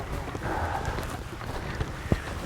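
Wind gusts steadily across open hunting ground during a pheasant hunt, a continuous low rumbling buffet against the microphone with one brief thump near the end and no talking.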